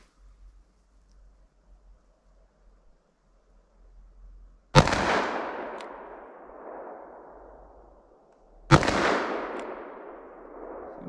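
Two sharp, loud handgun shots fired in single action, about four seconds apart, each ringing out with a long reverberant decay over an otherwise quiet outdoor background.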